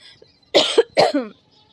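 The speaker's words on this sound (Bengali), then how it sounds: "ভীষণ কাশি হয়েছে, হট করে ঠান্ডা পড়ে গেছে।" Two sharp, close coughs in quick succession from a person with a cold, each with a short throaty tail, in an otherwise quiet room.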